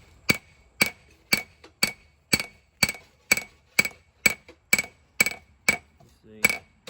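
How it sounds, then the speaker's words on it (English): A hammer strikes a hot forged backwoods knife blade on an anvil while shaping its bevels, ringing metallic blows landing about every half second in a steady rhythm, close and clear over a quiet background. "All right, so I'm starting to hammer in the bevels now."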